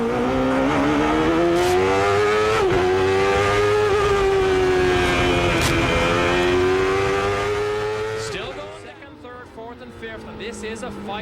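An IndyCar race car howls through the Laguna Seca corkscrew at high revs, its engine note dropping and rising as it brakes and accelerates downhill, with a commentator talking over the loud engine.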